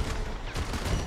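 Rapid gunfire from the mobile shooter FRAG Pro Shooter fills a brief moment, a dense burst of close, loud shots running almost continuously with no voice over it.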